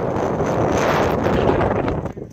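Steady wind buffets the microphone on a foggy mountain trail on the Appalachian Trail, a dense roaring rush that barely lets up.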